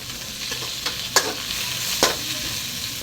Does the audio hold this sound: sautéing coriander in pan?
yes